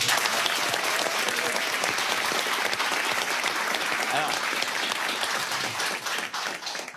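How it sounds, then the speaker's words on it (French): Dense audience applause for a mother on a French talk show, sustained loud clapping from a large crowd lasting several seconds before easing slightly, with a brief voice speaking over it near the start. "Et ben voilà, on applaudit sa maman."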